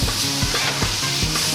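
Seasoned pork stir-frying for Thai basil stir fry, a loud steady sizzle broken by rhythmic scraping stirs of the spatula in the hot pan, close up with no talking.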